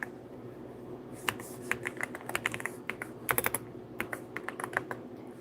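Live typing on a computer keyboard, close and clear, with irregular bursts of quick key clicks and short pauses over a faint room hum, with no voices.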